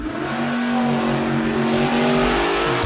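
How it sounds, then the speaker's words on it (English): A 1969 Camaro at a drag racing shootout roars steadily at full throttle, a loud, continuous engine drone with strong harmonics lasting the whole stretch, close and sustained. "Dave McLean in the left lane, 69 Camaro out of Gig Harbor."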